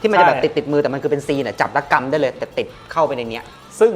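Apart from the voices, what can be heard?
No everyday noises stand out.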